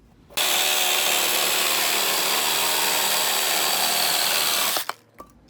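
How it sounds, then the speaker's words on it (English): A Sawzall reciprocating saw cuts through pallet wood while a workbench is built, a loud continuous buzzing, rasping cut of about four and a half seconds that stops abruptly, followed by a few faint knocks. "I'm gonna use the Sawzall and just cut off all the extra so it's nice and square"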